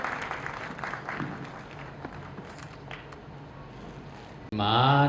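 Applause from an audience at an open session of a community convention, a dense rattle of clapping that gradually thins out, then gives way to a sudden loud, tonal sound at the end.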